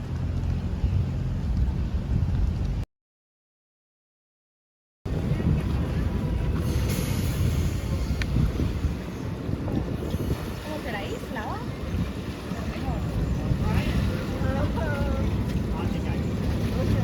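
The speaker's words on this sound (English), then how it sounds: "we're going for a boat ride" Constant rumble of a boat motor and water off Fort Lauderdale, Florida, with heavy wind buffeting the microphone, loud and continuous, interrupted by a short gap of silence.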